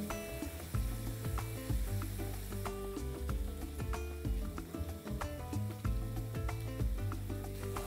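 Shredded potato and vegetables fry softly in a pan with a quiet sizzle, mostly masked by louder rhythmic background music.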